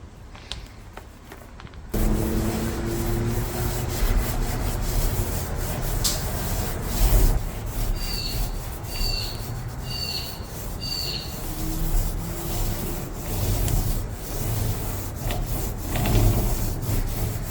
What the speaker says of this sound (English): I'm going to sand these back a bit, and then give them a good clean